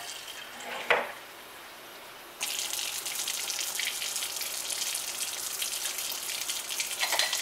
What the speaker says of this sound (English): we'll fill the rest of it up with some water